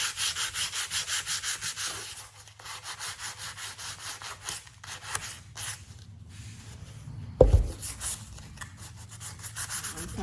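A painted wooden furniture piece is hand-sanded in a makeover, a close, rhythmic back-and-forth rasping of abrasive on wood repeating steadily, pausing briefly, then continuing, with a short bump partway through and no talk.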